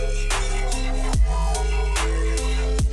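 A submitted electronic music track with a separated sub bass, a steady deep low end running beneath rhythmic kicks and bright hits, loud and continuous throughout with no voices.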